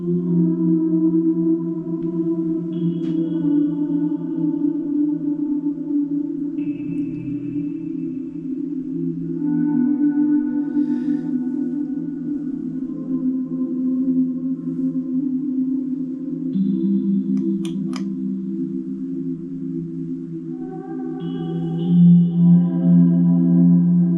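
Synthesizer playing a sustained droning tone with soft crackle-like noise similar to vinyl crackle, its timbre shifting as a filter knob and volume knob are adjusted; steady and fairly loud throughout with brief bright ticks.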